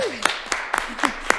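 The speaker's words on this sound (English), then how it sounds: "So we can cheer for that one too." Meeting attendees clap for an award: a handful of sharp, evenly spaced claps over a voice in a room.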